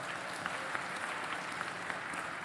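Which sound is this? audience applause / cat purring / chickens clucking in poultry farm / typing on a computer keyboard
audience applause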